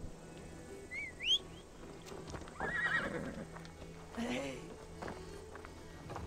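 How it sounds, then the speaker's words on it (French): A horse whinnies twice and hooves clip-clop in the medieval open-world game Assassin's Creed Valhalla, heard close and moderately loud over a low steady game background. "Il y a mon cheval."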